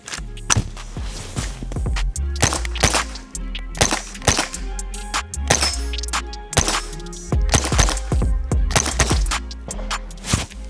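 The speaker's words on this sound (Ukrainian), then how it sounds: "Я постріляю по паперовим мішеням і по металевим. І подивимось, як карабінчик працює." A Winchester Wildcat rimfire carbine fires a long, irregular string of sharp, loud shots at paper and metal targets outdoors. The cracks come quickly, some in tight bursts and some more spaced, with no talking between them.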